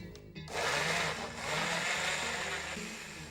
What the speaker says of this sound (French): on les met dans le bol du mixeur et on les mixe